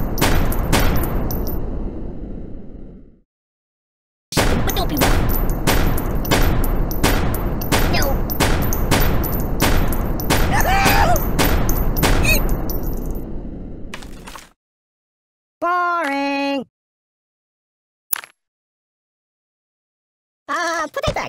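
Rapid gunfire in the video game Kick The Buddy, long bursts of loud, sharp repeated shots hammering for about ten seconds, then cut off by silence and a few brief game effect sounds.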